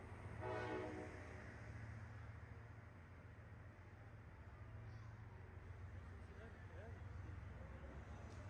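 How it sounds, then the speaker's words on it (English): An Egyptian passenger train arrives at a station platform with a low, steady rumble and hum throughout. A brief horn-like tone comes early, with faint distant station noise around it. "Train 84 arrives before mine and is identical"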